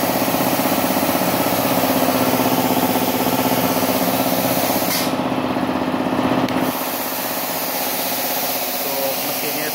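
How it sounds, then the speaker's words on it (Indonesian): An air compressor runs to feed a CUT 45G plasma cutter slicing steel plate, giving a loud, steady mechanical drone; the high hiss briefly drops out partway through before the hum carries on. "Potong kedua, kompresor baru nyala ya."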